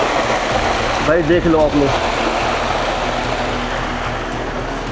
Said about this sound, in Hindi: झरने की लिमिट नहीं है, झरने बहुत है यहाँ पे, कोई लिमिट नहीं है